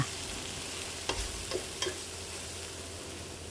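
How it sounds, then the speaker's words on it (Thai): Catfish and eggplant are stir-fried in a hot pan with a steady sizzle. A few sharp clinks and scrapes of a spatula are heard up close, with no one speaking. "ทยอยผัดเคี่ยวจนกระทั่งปลาดุกและมะเขือนะคะ สุกดีค่ะ"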